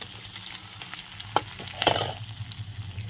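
Garlic fries in a pan in a home kitchen with a continuous sizzle, a couple of louder scraping stirs, and a low hum beneath.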